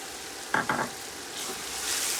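Onions dropped into hot oil in a pan, giving a short burst of sizzling and stirring clatter that settles into a soft, steady frying hiss.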